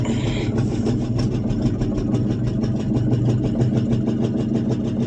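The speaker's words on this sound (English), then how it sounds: "Look at that. Starts and idles." A 1974 International pickup that sat unused for about 25 years idles after starting, its engine giving a steady, loud, close rumble with an even pulsing beat throughout.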